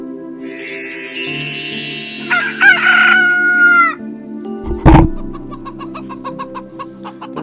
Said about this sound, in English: The rooster's crow woke the hens.